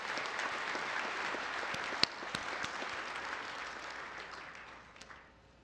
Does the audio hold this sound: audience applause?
yes